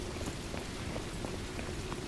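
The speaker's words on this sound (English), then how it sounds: "Woo, it's starting to rain." Steady rain falling in the video game Modern Warfare 2, a dense, even hiss with scattered drop ticks, fairly faint and continuous with no talk.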